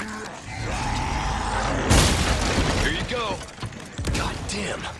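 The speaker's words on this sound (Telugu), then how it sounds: "బాంబు వేద్దాం రాని" A bomb goes off in the video game Resident Evil 4 Remake as one sudden broadband blast, set in dense game noise with voices and creaking sounds around it.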